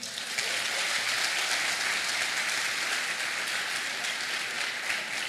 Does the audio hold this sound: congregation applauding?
yes